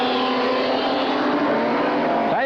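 Race cars roaring around a speedway in a 1984 Grand Nationals USA versus Australia meeting, engines droning loud and continuous at high revs, with a car sweeping close past near the end.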